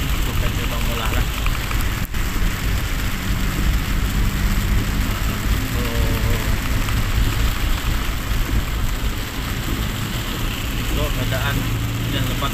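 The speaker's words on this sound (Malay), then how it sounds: "Keadaan hujan lebat masih" Heavy rain pours down in a dense, continuous roar that stays loud and even from start to finish, with an engine-like rumble mixed in underneath.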